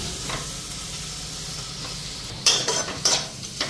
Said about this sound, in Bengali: মশলাও ভাজা হয়ে গেছে এখন চানাগুলি দেওয়া দেবো